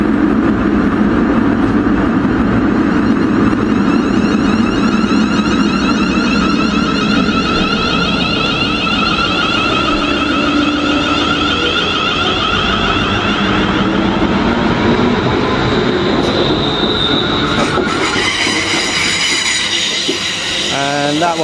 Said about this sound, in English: This train is for Birmingham New Street.